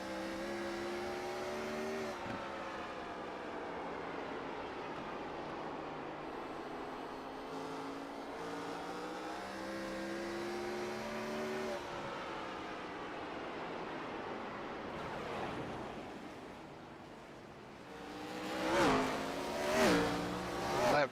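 Race cars at Nashville Fairgrounds Speedway during an FTSR Saturday night money race, engines droning and rising and falling in pitch as they circle the track, then several cars roaring past close by in quick succession near the end.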